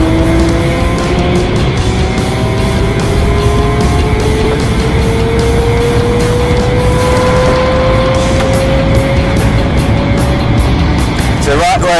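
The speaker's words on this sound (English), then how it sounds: "Right, let's fire her up, Alexander, and let's go." A clutchless, belt-driven children's car engine runs steadily and loud up close, its pitch slowly climbing as it drives along, with a brief squeal near the end.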